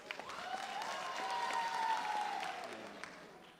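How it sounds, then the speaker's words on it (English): Staff audience at a hospital town hall meeting clapping together in a hall, a sustained, moderately loud round of applause with faint crowd murmur underneath. "Let's give them a round of applause."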